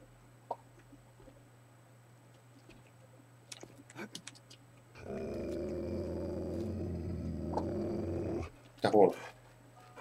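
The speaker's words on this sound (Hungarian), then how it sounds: "Egyébként ez kutya." A dog growls in the survival video game 7 Days to Die, a loud, sustained rumbling growl of a few seconds set against quiet game ambience, with a few brief clicks before and a short burst after.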